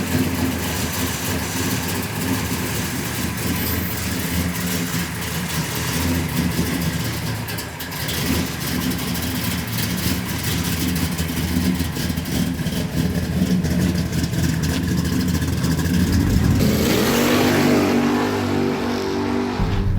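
A 1970 Oldsmobile 442 engine rumbles at a steady idle, then rises into a louder rev near the end, close and continuous with no talking over it.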